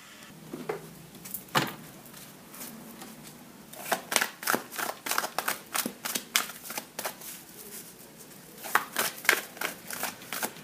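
Oracle cards are shuffled by hand in quick riffling bursts: a single snap early on, then rapid crisp flutters and taps repeating through the second half, close up with no talking.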